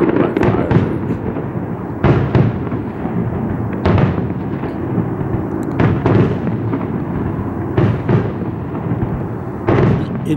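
Fireworks burst repeatedly at a distance over a residential street on 27 December, sharp booms every couple of seconds over a continuous crackling rumble.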